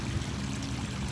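Strong, steady rush of flowing water from a stream running past a covered deep well, a continuous close broadband wash with no pauses.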